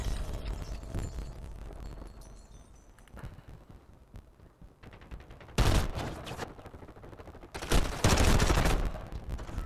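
Gunfire in the hunting video game The Next Generation Hunter: a few scattered sharp shots early on, then two loud, dense bursts of booming blasts later, with no talking.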